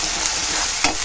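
A spice paste with chilli and salt fries in a pan for duck khichuri, giving a steady close sizzle with a brief scrape of stirring near the end.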